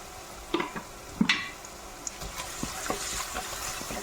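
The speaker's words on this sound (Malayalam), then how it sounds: "ഒരു അഞ്ചോ ആറോ കൊച്ചുള്ളി ചെറുതായിട്ട് അരിഞ്ഞതാണ് ചെറിയ ഉള്ളി നമുക്ക് ഇതിലേക്ക് ഇടാം" Chopped shallots, crushed ginger-garlic and curry leaves hitting a hot pan for a prawn curry, giving a soft sizzle with a few sharp crackles and light stirring scrapes, close but fairly quiet.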